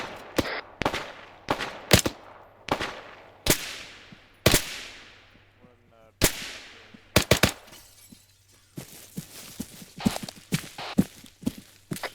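Gunfire from a video game firefight, a rapid series of sharp shots and bursts with ringing tails, some close and loud, others lighter, spread across the stretch with no talk over it.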